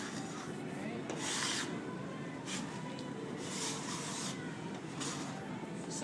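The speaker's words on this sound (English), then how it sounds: "Smooth it in." A steel trowel smoothing Venetian plaster across a board makes a steady, close, abrasive scraping with repeated sweeping strokes that run continuously throughout, and no one talks.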